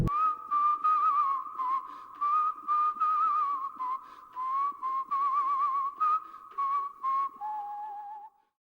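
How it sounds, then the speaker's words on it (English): A melodic whistled tune, clear and close, carried in a series of short phrases with wavering pitch, ending on a lower sustained note. "people report having heard an ominous whistling coming from nowhere"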